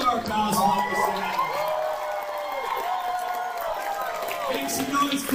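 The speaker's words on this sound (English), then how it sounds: "Audience, do me a favor, make some noise for all of our cosplayers." A Comic Con stage crowd in New York whoops, cheers and shouts for the cosplayers, a loud, steady roar lasting several seconds with voices rising through it.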